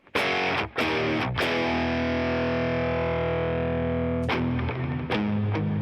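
Electric guitar with distortion and reverb effects, playing a heavy sustained chord that rings out loudly with a few sharp attacks before and after it.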